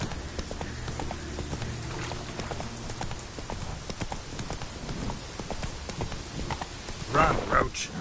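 Roach, the horse in The Witcher 3, galloping with rapid rhythmic clip-clopping hooves under steady rain, a constant close patter throughout, with a brief louder burst near the end.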